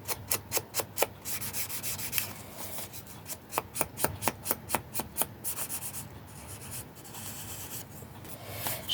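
Ink is rubbed onto the edges of cut vintage photo film, a close series of quick, rhythmic scratchy rubbing strokes, some evenly paced and others in looser bursts.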